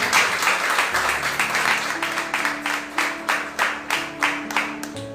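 A church congregation applauds during a family worship service, with loud, steady, rhythmic clapping in unison that continues throughout.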